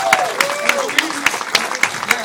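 A film festival Q&A audience in Austin claps in quick, even unison as a guest arrives, sharp beats landing about every quarter second, with some voices rising faintly over the crowd.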